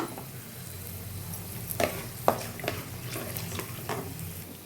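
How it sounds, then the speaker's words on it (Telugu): Garlic, dried red chillies and mustard seeds sizzle in hot oil for a tempering, a steady low fry with a few sharp pops and crackles spread through, close and alone. "ఇదండి పోపు వేగిపోయింది."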